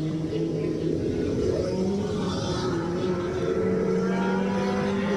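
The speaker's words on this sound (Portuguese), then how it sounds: "Agora aqui já na entrada da reta, aí já vem o carro numeral 77." Touring race car number 77 comes down the straight toward the listener, its engine note rising and shifting pitch over several seconds at moderate loudness, heard from trackside without talk.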